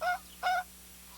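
Two loud, close honks from a Canada goose, each a short harmonic blast about a fifth of a second long with a brief gap between them, then quiet.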